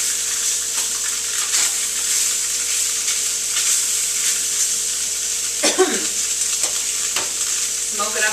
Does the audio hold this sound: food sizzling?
yes